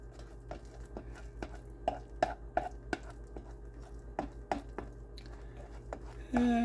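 A spatula scrapes and taps against the bottom of a skillet of frying sardines, a series of short, close scraping clicks in an irregular rhythm over a faint sizzle, with a louder scrape at the end.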